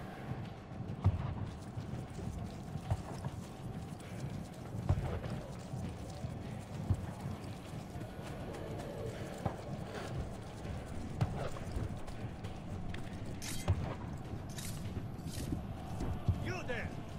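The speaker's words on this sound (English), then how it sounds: "No, horsey." Horse hooves clip-clop at a steady walking pace in Assassin's Creed Brotherhood, soft and even beneath game ambience and occasional voices.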